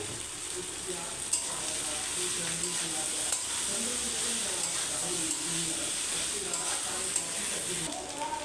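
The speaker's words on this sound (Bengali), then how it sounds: "এবারে আমি এই ভাতটা ঢেলে দেবো" Cold leftover rice tipped into fried spices in a hot pan for masala rice; a steady, fairly loud sizzle with stirring and scraping running throughout and a few sharper clicks.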